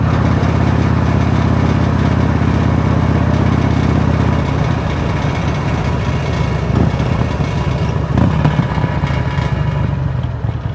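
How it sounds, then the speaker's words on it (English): A Harley-Davidson Road King with a loose exhaust clamp runs loud and close, its rough, steady engine rumble idling throughout with slight shifts in tone near the end. "That sounds like a loose exhaust clamp."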